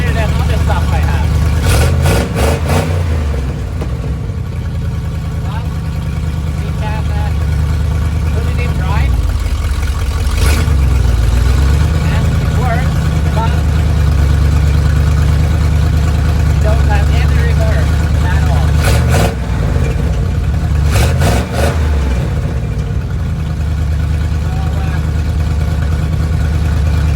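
An old truck's engine runs steadily at a low, rumbling idle, loud and close, with a few brief clatters and bumps over the top and someone talking over it.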